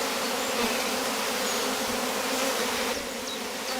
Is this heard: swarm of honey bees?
yes